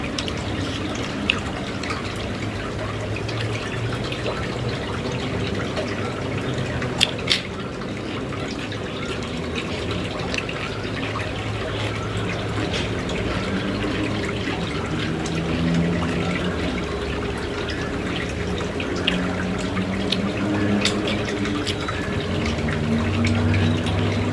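Water is released from a pond and splashes in a steady, rushing stream, with scattered drips and small splats on top. It runs continuously at moderate loudness for about twenty-four seconds.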